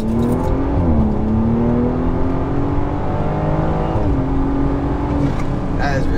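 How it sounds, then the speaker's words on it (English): A Stage 2 BMW 340i with a flashed transmission pulls hard onto a highway, its engine note climbing steadily and dropping sharply at quick upshifts, loud and close from inside the cabin. "I wanted to give you guys a little pull entering this highway because this transmission flash is ridiculous."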